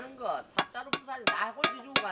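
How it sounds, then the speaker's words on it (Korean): A hammer strikes a metal cooking pot while a new handle is fitted, five sharp ringing knocks at an uneven, roughly steady pace, close and clear, with a voice talking briefly before the first blow. "근데 아빠가 해야지 왜 딸이 망치질을 해요?"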